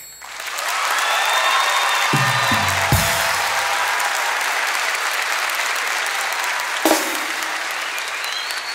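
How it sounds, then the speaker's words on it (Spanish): Sustained, loud applause from a live studio audience at a comedy talk show, a dense wash of clapping that holds steady for several seconds with a couple of brief louder spikes. "Aplaudan los peruanos."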